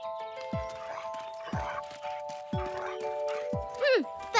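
A pony neighs and its hooves clip-clop in a cartoon farm scene, with steady hoof knocks about once a second and a short whinny near the end. Animated voices and music play over the hooves.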